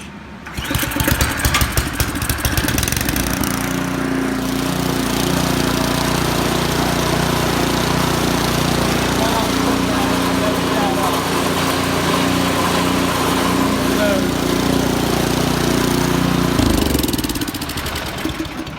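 Small gasoline engine of a Powersmart snow blower, just started after reassembly, runs loud and steady close by for most of the clip before cutting off near the end, with some talk early on.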